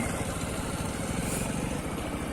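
A motorcycle engine runs at low revs while the bike rolls slowly forward, giving a close, steady, pulsing putter throughout with no talk.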